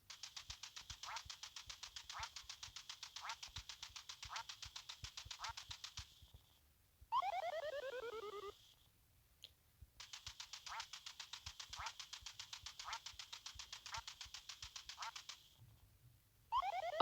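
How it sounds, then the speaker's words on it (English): A cartoon duck in a plumber-themed video game gives rapid, evenly spaced electronic quacks in two long runs, each broken by a swooping descending effect, loud and clear with no talking. "I think I'm playing as the fucking duck."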